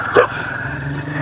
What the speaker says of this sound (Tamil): நாய் குலைக்குது